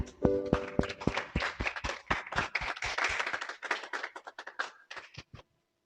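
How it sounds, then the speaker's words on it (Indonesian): A congregation claps joyfully at a New Year church service, sharp hand claps in a loose rhythm over a brief musical tone, thinning out and stopping near the end. "Mari saya mengajak kita semua untuk memberikan satu tepukan sukacita buat Tuhan."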